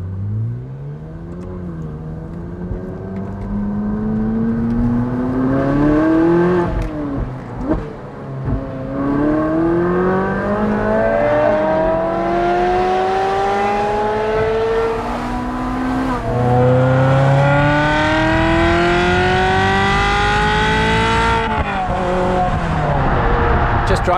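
A Ferrari F12 and a Ferrari 430 pull away from a roundabout in convoy, engines revving hard through repeated rising gear pulls, loud and close, with brief shift gaps.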